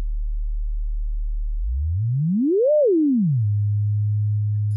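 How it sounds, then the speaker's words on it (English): A System Coupe synth filter self-oscillating into a pure sine tone: a low steady hum that sweeps smoothly up in pitch, peaks, then glides back down to settle on a slightly higher steady drone, loud and alone. "So it sends out a sine wave."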